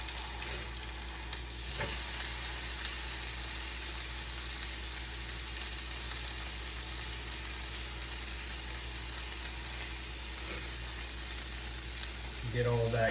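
Onions and chorizo frying in a pan at medium heat for breakfast tacos, a steady soft sizzle held at an even, moderate level throughout, with a brief clatter near the end.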